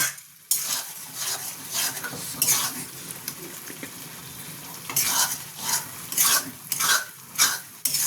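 A vegetable tadka fries in a pan, its sizzle broken by repeated scraping and clinking of a metal spoon stirring, loud bursts coming in irregular strokes.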